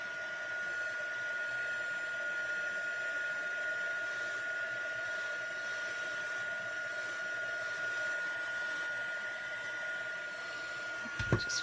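Continuous, steady whir of a heat tool blowing hot air over embossing powder on a stamped card, a flat droning hum held for the whole stretch with a small knock at the very end.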